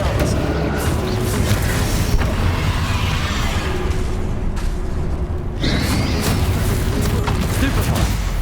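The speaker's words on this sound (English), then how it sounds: "Expelliarmus." A spell burst in the Hogwarts Legacy video game, the Expelliarmus disarming charm, gives a loud whooshing boom over dense, continuous game-combat sound, with a sharp swell near the end.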